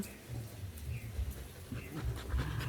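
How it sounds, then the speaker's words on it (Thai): A dog pants heavily in quick, steady breaths while lying close by, the rhythm continuous and near with no talking over it. "โชคเหนื่อยหอบนอนนอน ข้างผม"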